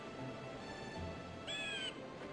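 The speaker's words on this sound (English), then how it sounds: "Bird, you stop making that sound." A bird caws in the PlayStation video game Alundra, near a crow's nest: a short, shrill electronic call rises briefly over a quiet game backdrop.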